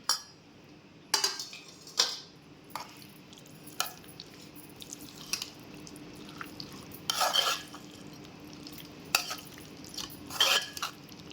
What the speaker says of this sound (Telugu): ఇట్లా మెత్తగా గోంగూర అంతా మెతిపేసుకొని ఒక డిష్లోకి తీసుకోవాలి